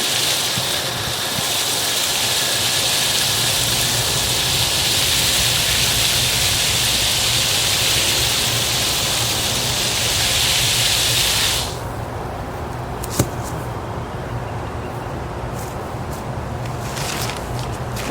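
Water spraying onto freshly transplanted roses in a central Florida garden, a steady loud hiss for about twelve seconds that cuts off abruptly, leaving quieter outdoor ambience with a few faint knocks.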